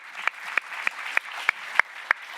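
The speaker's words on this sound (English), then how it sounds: "a round of applause," Scattered applause for a start-up speaker at a business event, heard as sparse, individual claps spaced roughly a third of a second apart, crisp and fairly close, rather than a full crowd.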